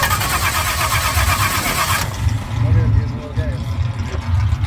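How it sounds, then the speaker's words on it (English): Pontiac 350 V8 with a Willis carburetor cranks briefly and fires, then settles into a loud, uneven running rumble close by, with a voice speaking over it. "It starts and runs just fine."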